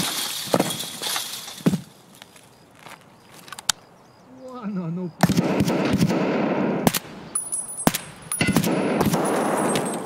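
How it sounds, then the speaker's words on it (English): Gunfire in the shooter game Escape From Tarkov: sharp, close shots and short automatic bursts scattered irregularly, with a brief quieter stretch and a shatter-like crack, while a player's voice talks in between. "Yo, is that guy shooting at me?"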